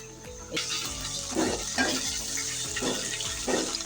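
Ginger-garlic paste and chopped onion fry in a pan, a steady close sizzle broken by a few scraping stirs at a loose rhythm, with no talk.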